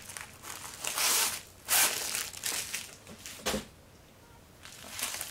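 Plastic packaging of a diamond painting kit crinkling and crunching as it is unwrapped, in several bursts of rustling with quiet gaps between, close by.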